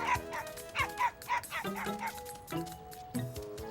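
A small cartoon dog barks in a field with a quick run of high, bright yaps, close and lively, followed by a few lower, drawn-out whining barks.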